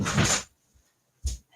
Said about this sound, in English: Give me 1 second to just close the door.